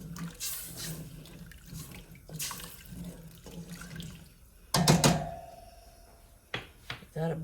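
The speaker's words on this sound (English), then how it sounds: "stock going in." Seafood stock poured into a chowder pot of shrimp, lobster, scallops and crab, a soft continuous splashing stream with a sharper clatter midway, quiet and close, while someone talks.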